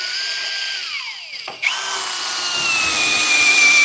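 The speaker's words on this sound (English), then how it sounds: "I'm gonna annoy everyone with the sound of a drill while we figure this out" A power drill runs loudly with a steady high whine that winds down, pauses briefly, then spins back up and holds, heard alone in a custom car workshop while work is underway on a 1938 Cadillac rear bumperette.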